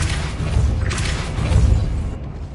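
A Depulso spell blast in the Hogwarts Legacy video game, a close, deep boom with a thudding low rumble that swells briefly and then fades.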